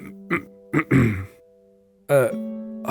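A person clears their throat in a few rough, voiced bursts with short pauses between, close and dry, mixed with grunting vocal sounds.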